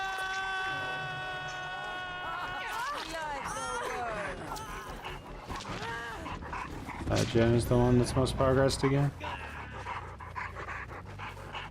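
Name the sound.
dog panting and whimpering in video game Dead by Daylight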